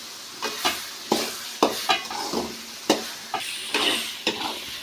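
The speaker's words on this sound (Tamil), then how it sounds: "நல்லா கைவிடாமல் கிண்டி விட்டுட்டே இருக்கணும்" Gooseberries for pickle stirred in a hot pan, giving a series of scraping, sizzling strokes in an uneven rhythm, close and moderately loud, with no talking.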